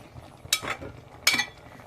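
Fish curry being stirred in a pan, two brief scraping clinks of a spoon against the metal about three quarters of a second apart, quiet and close.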